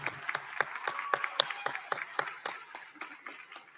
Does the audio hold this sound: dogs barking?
no